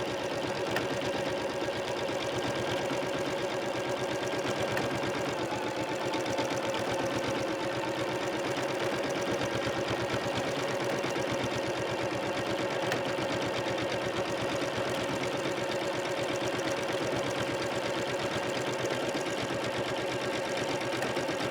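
A sewing machine with a walking foot stitches a quilt, a continuous mechanical hum with a fast rhythmic chatter that runs steadily and close for the whole stretch.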